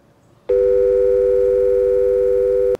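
A telephone dial tone after a call is hung up: a loud, steady, unbroken electronic tone starts abruptly and holds alone for about two seconds before cutting off.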